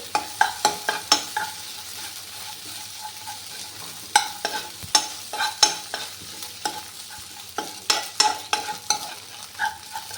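An egg is scrambled in a frying pan, with a fast series of sharp spatula scrapes and taps over a light sizzle, loud and close, and no speech.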